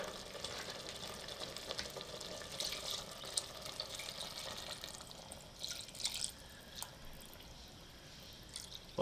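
Water is poured into aloo gosht cooking in a handi, a faint, steady watery hiss and trickle with light splashes, heard quietly and alone.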